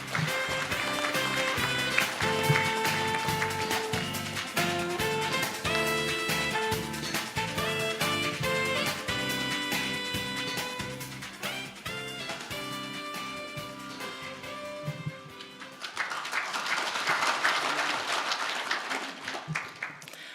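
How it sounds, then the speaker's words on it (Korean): Audience applause welcoming the BTN Buddhist TV chief executive's address at a Buddhist forum on inter-Korean peace, swelling as a broad wash of clapping near the end after a stretch of loud music. "따뜻한 박수로 맞이해 주시길 바랍니다."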